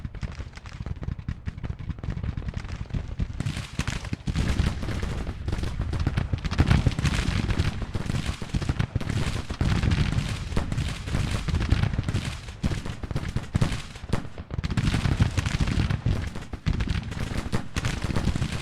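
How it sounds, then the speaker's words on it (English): Point-blank artillery and massed musket fire in a Civil War strategy game, Grand Tactician: dense, continuous crackling volleys with deep booms, loud and close, rolling on without pause. "We are taking point-blank artillery fire."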